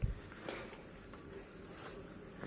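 Farmed crickets chirp in a steady, high, continuous trill that is close and fairly quiet, with no talk over it.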